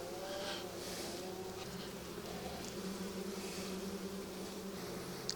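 Honey bees buzz steadily around a frame of capped brood from a five-frame medium hive, a soft continuous hum with individual bees passing close now and then.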